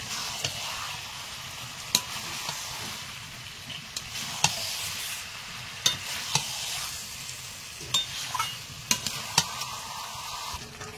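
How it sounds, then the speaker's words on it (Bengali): Chicken stirring and frying in spice masala in a pan, a steady close sizzle with periodic sharp clacks of the spoon against the cookware, no talking. "এবার চিকেনটার সাথে মশলার সাথে মিশিয়ে নেব"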